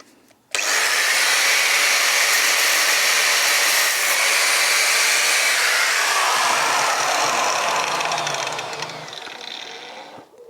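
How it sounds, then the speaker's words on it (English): A thin cut-off blade slices bolts to length, producing a loud continuous high-pitched grinding whine that starts abruptly and holds steady before easing off and trailing away at the end. "I can cut them all exactly to the same length. All right, so, and I'm using a very thin cut blade."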